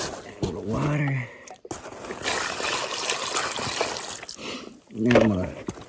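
Water poured onto a 60-pound bag's worth of quick-drying concrete around a cattle gate post, a soft trickling splash in the middle between short bursts of someone talking.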